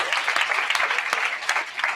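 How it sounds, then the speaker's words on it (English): Brief burst of audience applause at a brand-week session, brisk, continuous clapping from a crowd heard close and fairly loud with no talk over it. "Round of applause for this."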